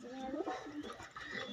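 Pigeons at a farm feeding spot give soft, murmuring coos at a distance, faint and blended into the background.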